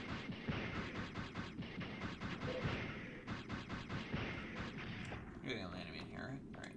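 Repeated explosions and gunfire bursts from the video game Hippopotamus 64, a dense, continuous barrage of booms filling the scene while someone talks over the noise.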